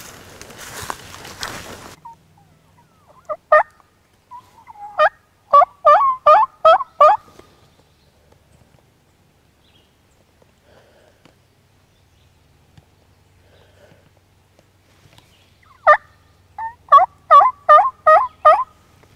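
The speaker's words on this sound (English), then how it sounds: "this bird's gobbling pretty good" A wild turkey gobbles loudly in the spring woods, in two clear bursts of rapid, rattling gobbles several seconds apart, after a brief rustle of movement at the start.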